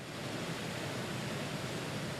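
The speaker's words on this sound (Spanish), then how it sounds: "Aquí se ve un río que fluye por una ciudad provincial." Steady, dense rushing of river water flowing through a provincial town, an unbroken wash of noise at even loudness with no voices or other sounds.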